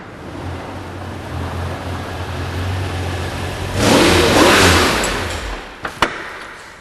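Engine of a BMW V12-powered car revs and surges, a low droning hum building into a louder roaring burst, followed by a couple of sharp mechanical bangs near the end.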